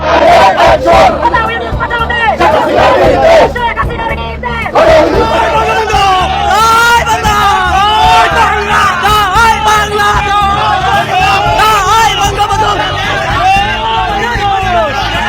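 Supporters of the Awami League chant loudly during a street protest march in Bangladesh, a dense crowd of rhythmic shouted slogans and hubbub that stays close and continuous throughout.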